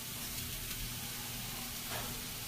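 A pot of corn boiling on a kitchen stove gives a steady, close hissing bubble that runs unbroken and fairly loud for the whole moment.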